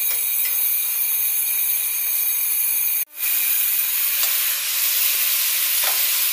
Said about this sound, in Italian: Adesso i funghi sono nel nostro tegame, senza niente, accendo il fuoco e metto il coperchio.